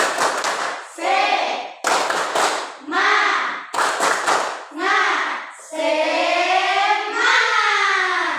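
Classroom of students performing a tepuk semangat chant, loud group voices in rhythmic bursts punctuated by quick hand claps, ending in a long sustained shout.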